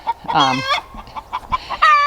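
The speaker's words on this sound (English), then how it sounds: "They like to announce when they've laid an egg." Hens that have just laid eggs cluck and cackle loudly nearby, with a drawn-out squawking call, scattered short clucks, and another rising cackle at the end.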